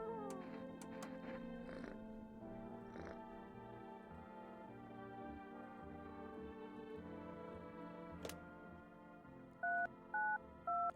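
A cat meows several times inside a horror video game, soft and intermittent over a quiet droning ambient score, followed by three short electronic telephone-dialing beeps near the end.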